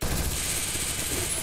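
MP40 submachine gun fired in a video game for a headshot; one short, rapid automatic burst of dense, evenly spaced cracks at a fairly low level.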